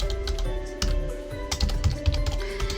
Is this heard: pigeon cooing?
no